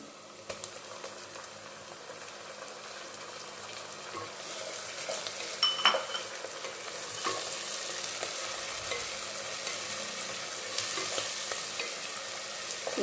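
Tomatoes frying in a pan for a chicken curry, a steady loud sizzle and crackle with occasional stirring scrapes throughout, no talking.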